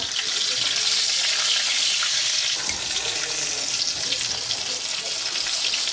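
Green chilies and nigella seeds sizzling in a little hot oil for a village-style tangra fish curry, a loud, steady hissing fry close up with a brief clatter partway through.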